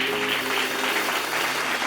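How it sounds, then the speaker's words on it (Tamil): Church congregation applauding together in a steady, dense wash of clapping that fills the short stretch, fairly close and even in loudness, with no break. "கைத்தட்டுங்க ஒருவருக்கு. ஆமென்."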